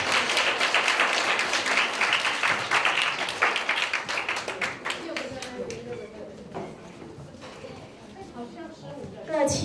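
A seated audience of students at a youth leadership camp in Kaohsiung claps for classmates walking onto a stage: dense, lively applause that swells at first and then thins out as a speaker's voice takes over.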